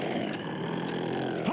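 A Hunter special infected in Left 4 Dead lets out a loud, sustained roaring growl lasting a second and a half, filling a busy game soundscape.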